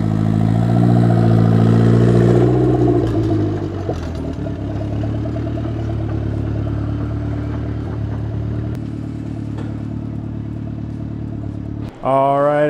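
An LS-swapped Mazda Miata engine runs on an old, worn throttle body, a steady loud idle with a wavering low hum, a brief rise near the start, then a short clipped burst at the end.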